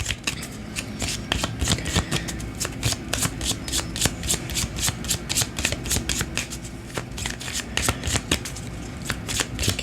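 A Cigano fortune-telling card deck is shuffled continuously by hand, giving a dense run of crisp riffling clicks and flutters close up, with no voice.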